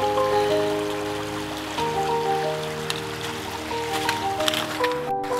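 River Falloch running by a broken footbridge in the Scottish Highlands, a continuous close rushing and trickling of water, with steady tonal hum layered underneath.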